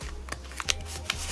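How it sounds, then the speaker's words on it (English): Photocards of a K-pop group being pulled out of a small photo album and handled, giving a close run of soft papery shuffles and flicks with a few sharper snaps, alone with no talk. "let's take out the cards that I have from my"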